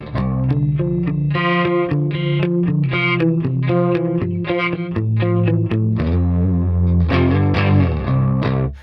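Distorted electric guitar through a chorus pedal with a shimmering, wavering effect, played as a loud, continuous run of notes and chords.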